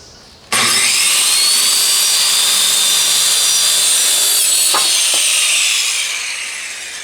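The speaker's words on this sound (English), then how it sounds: "So now I need the 4x6s. Let me cut those at 28." A saw cuts through 4x6 timber during bridge construction, starting abruptly and running as a loud, steady whining rasp that eases slightly toward the end.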